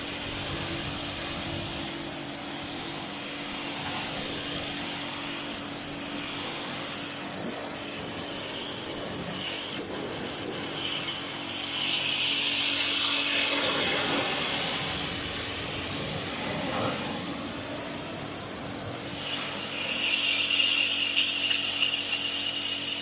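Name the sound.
jet washing a stored koi pond cover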